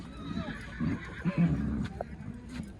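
A horse neighs at a horse market where Nukra and other horses are offered for sale, with a whinny rising out of crowd noise, some hoof clatter and faint voices in the background.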